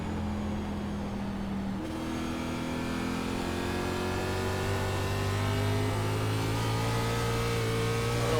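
A NASCAR Class B race car engine in iRacing at New Hampshire holds a steady loud drone, its pitch climbing gradually as the throttle opens, continuous with no talk.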